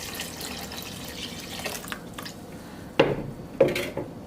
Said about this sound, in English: I'm going to put water just to fill up the zobo.